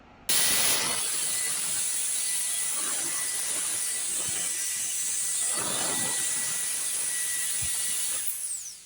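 A EUKI compressed air duster, a 3-gear adjustable jet dry blower, lets out a loud, steady, close-up hiss of rushing air that lasts about eight seconds and then cuts off.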